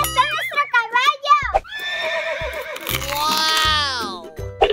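A pony whinnies loudly and at length in a park, its high, wavering neigh cutting through excited children's voices that speak before and around it.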